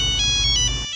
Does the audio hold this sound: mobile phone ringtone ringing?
yes